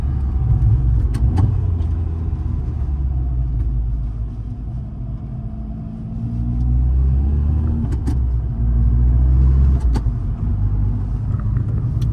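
Audi S1 tuned for track use at stage 4 with over 400 hp, heard from inside the cabin as a steady loud engine rumble that dips and rises through downshifts with the shifter, with a few sharp clicks.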